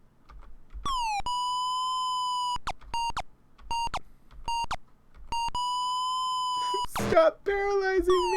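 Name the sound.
beeps and boops from video game Ultima II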